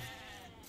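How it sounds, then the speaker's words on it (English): Sheep bleating in a video game, a single wavering bleat heard close and fairly loud, holding steady for under a second with no talk over it. "Alright, sheep."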